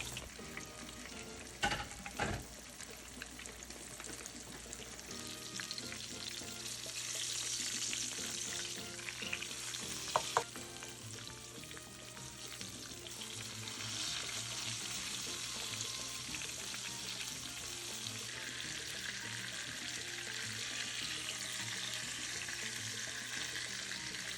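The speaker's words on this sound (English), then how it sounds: "you wanna fry them at least 3 to 4 minutes on each side" Chicken milanesa cutlets, Cuban style, fry in a pan with a steady, close sizzle and crackle that runs throughout, with occasional louder pops and stirring clatter.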